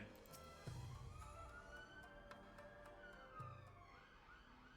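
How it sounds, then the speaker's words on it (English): Emergency sirens wail in long rising and falling sweeps, distant and steady beneath faint background traffic hum. "Sorry about all the sirens"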